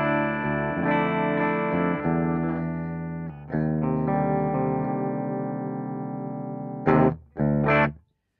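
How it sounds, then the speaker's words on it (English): Electric guitar on a clean amp channel ahead of an EarthQuaker Devices Acapulco Gold V2 distortion pedal, sustained ringing chords and single notes with steady tone, ending in two short sharp strums before silence. "So here is the clean tone, is absolutely clean."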